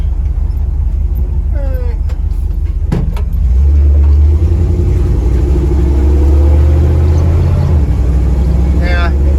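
A Dodge A108 van with a 3-speed transmission drives along a street, its engine a steady low rumble that swells louder partway through, with a few faint chirps and clicks over the drone.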